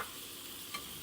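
Paneer ghee roast sizzles in a pan with a soft, steady frying hiss and a faint stir near the end, quiet and brief with no talking.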